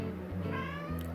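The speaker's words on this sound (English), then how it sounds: "sorry, my cat's meowing." A cat meows once, a drawn-out tonal cry rising and falling, fairly close and clear over a steady low hum.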